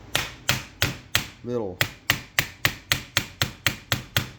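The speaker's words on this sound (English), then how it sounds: "we're going to give it a little tappy tap with the plastic hammer" A plastic hammer tapping an MP5 lower receiver during installation, a steady run of about a dozen evenly spaced close taps, with one brief spoken word partway through.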